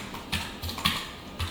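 Short bursts of keystrokes on a computer keyboard as code is entered, a handful of crisp clicks spaced irregularly, close and fairly quiet, with no talking.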